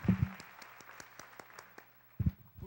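Hand claps at a church evening service for the Feast of Tabernacles, a slow, evenly spaced run of sharp single claps between louder thumps at the start and end.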